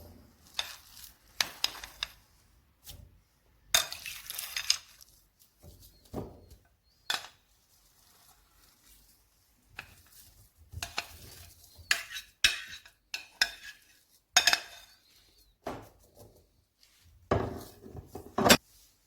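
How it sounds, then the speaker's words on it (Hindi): Boiled potatoes mashed in a bowl, irregular bursts of squishing, scraping and clinking of a utensil against the bowl separated by quiet gaps, close and moderately loud, no talk. "अब हम आलू को मैश कर लेते हैं।"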